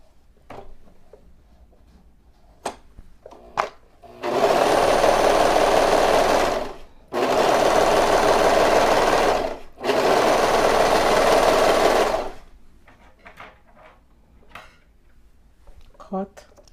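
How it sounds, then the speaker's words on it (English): A serger runs in three long loud bursts, stitching the side seam of a baby's pillowcase dress, with brief pauses between runs and quiet handling clicks before and after. "serge in the other side,"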